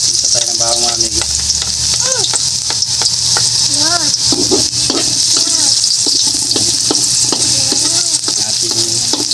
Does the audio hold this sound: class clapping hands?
no